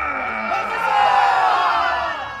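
A live audience at a Renaissance-themed music show bellows a loud, sustained collective shout of huzzah, swelling and then tapering off.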